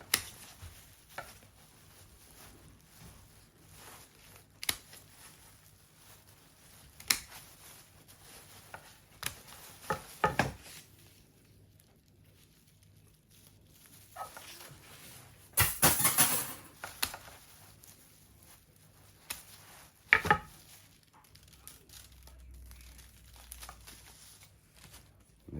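Branches are being cut from a silver birch bonsai tree, giving scattered, sharp close-up chopping and snipping clicks at irregular intervals, with a few louder cuts among quieter rustling and no talking.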